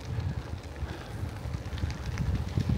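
Chilly winter wind buffeting a moving cyclist in Montreal, a steady low rumbling roar with gusty swells throughout, close and loud, with no voices.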